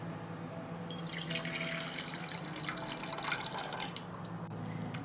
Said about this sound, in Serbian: Zatim ću sok od limuna sipati u bokal.